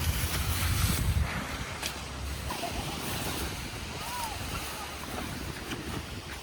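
Ocean waves on an uncrowded beach on a hot day, a steady hiss of surf with wind buffeting the microphone, low rumbles in the first seconds and faint distant voices.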